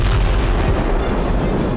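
A powerful blast linked to North Korea and tension on the Korean Peninsula comes through as a loud, dense, roaring rumble. It holds steady for under two seconds, heavy in the low end, with no voices.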